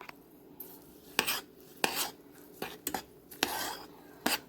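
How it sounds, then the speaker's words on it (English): A spoon clinks and scrapes against a pot while pepper is stirred into homemade garden-tomato sauce, a series of irregular sharp knocks and rubs, close but fairly quiet, with no talk. "And then I'm going to add a little bit of pepper. And we'll stir that in."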